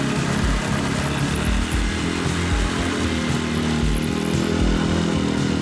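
A ZID Barkhan off-road motorcycle engine runs steadily and loudly throughout, a continuous low, rumbling drone with slight pulsing as it pulls across rough ground.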